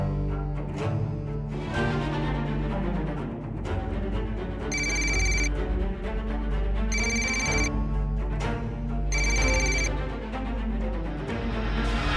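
A telephone rings three times in evenly spaced bursts over a continuous music score during a call scene.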